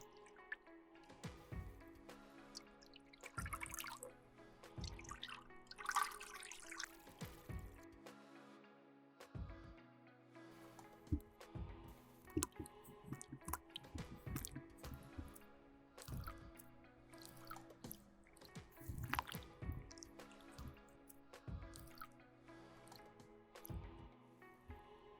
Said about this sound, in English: Start by adding water into the hangiri, followed by the ume.